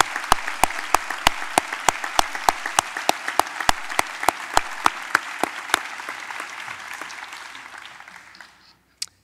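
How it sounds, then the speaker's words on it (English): Audience applauds a poet at the 2012 Anisfield-Wolf Book Awards ceremony, a steady clapping crowd with a few sharp, loud claps standing out in an even rhythm, fading gradually before stopping. "Please join me in another round of applause for our superbly gifted homegrown poet."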